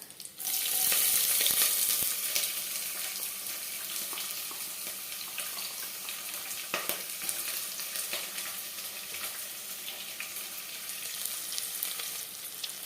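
Chopped onion sautés in a pressure cooker for tomato pulao, a steady, close sizzle that starts loud as the onion drops in and then settles, with light stirring and no voices.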